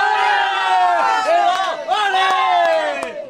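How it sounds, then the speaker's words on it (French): A crowd of people at a village team event shouts a made-up battle cry for the orange team, loud overlapping chanting voices with a whoop and a few sharp claps breaking through. "Allez, le cri de guerre pour les oranges là."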